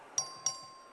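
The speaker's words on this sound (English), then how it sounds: "The clerk ring the bell." Two bright chimes of a voting bell in a legislative chamber, evenly spaced about a quarter second apart, each ringing out with a lingering tone over a quiet room.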